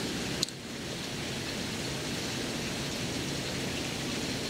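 Rain falls steadily outside as a dense, even hiss that carries through the whole stretch, with one faint click near the start and no voices.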